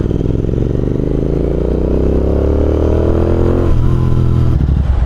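A new Suzuki Hayabusa motorcycle engine revs loudly up close, its throbbing note climbing steadily before dropping back and picking up again, with no voices.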